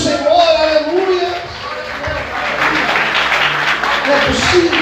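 A church congregation claps and cheers for the Lord during a sermon, a sustained wash of applause over a pastor's voice and crowd noise, loud and close throughout.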